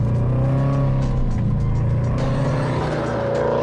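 A car on a race track during a lap-timing comparison of a Subaru Forester STI and a Mitsubishi Legnum VR-4 drives past, a steady loud engine roar that swells slightly, heard from nearby with no talk.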